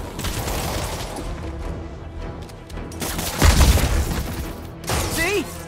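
A weapon fires during the Shocker boss fight in the video game Marvel's Spider-Man, heavy booming blasts amid battle noise, with a strong low thump near the middle and game voices and effects around it.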